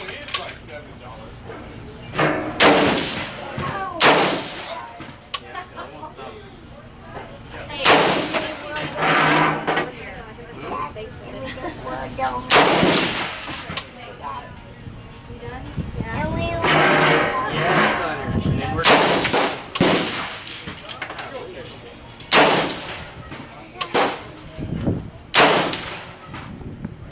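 Savage MSR-15 Recon rifle fired repeatedly while being sighted in outdoors, sharp loud cracks spaced irregularly a few seconds apart, with people talking between and around the shots.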